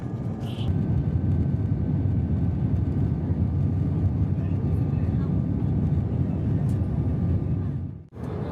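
Steady broadband drone of an airliner cabin in flight on a budget carrier, approaching Bandaranaike airport in Sri Lanka before landing, a constant low roar throughout with a brief dip near the end.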